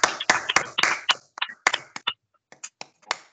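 Hand clapping at a Sunday church service, with sharp, close claps landing in irregular bursts and a voice faintly mixed in.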